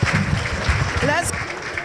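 Brief applause for sponsors at a carnival breakfast, mixed with crowd voices and a whistle-like tone, steady and moderately loud across the short stretch.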